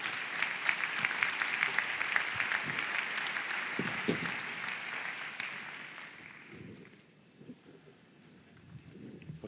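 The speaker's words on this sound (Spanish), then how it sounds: "Un fuerte aplauso." An audience at a business meeting claps loudly and densely, then the applause thins and fades out over the last few seconds, leaving scattered handclaps and room noise.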